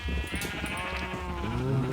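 Sheep in the Minecraft mod Better Than Wolves bleat repeatedly, several overlapping wavering cries that sound close and clear, with no talking.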